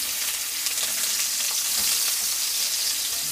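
Onion fries in a very hot pan that is starting to scorch, a dense, close, continuous crackling sizzle at even loudness with small spatters throughout.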